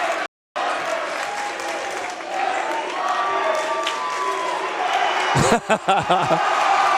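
A basketball crowd in a gym bursts into sustained applause and cheering for a player, loud and continuous, with a brief dropout near the start and a commentator talking over it.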